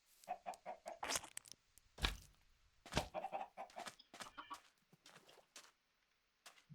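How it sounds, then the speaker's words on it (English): Chickens in the survival game Forever Stranded cluck in short, irregular bursts, one after another, fairly close, with brief pauses between the calls. "it's feeding the chickens"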